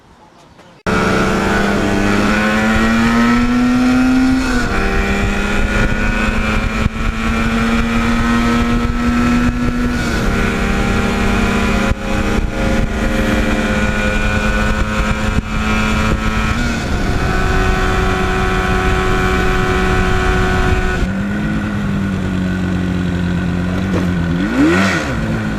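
Two-stroke motorcycles at a Bikes and Breakfast gathering in Bogota rev loudly and steadily for the whole stretch, engine pitch rising and falling with the throttle, with a final sharp rev near the end.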